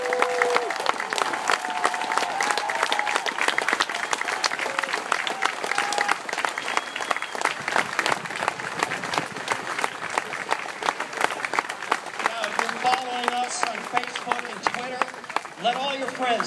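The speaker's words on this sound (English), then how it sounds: "Let's stand and give them all a rousing round of applause." Audience on its feet applauding wounded armed forces members at a Capitol concert rehearsal, loud continuous clapping and crowd noise for the whole stretch, with cheering and voices mixed in throughout.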